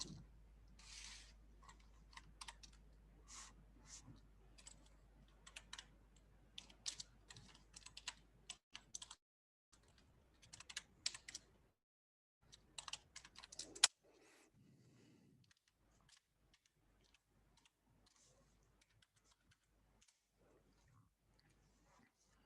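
An email address is typed on a computer keyboard, with quiet bursts of clicking keys and brief gaps in between. Near the end the typing gives way to near silence.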